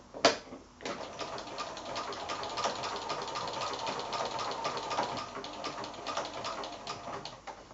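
A sewing machine stitches an almost invisible appliqué, a fast, steady mechanical whir with rapid needle ticks that starts after a short knock and runs close and even throughout, with no talking.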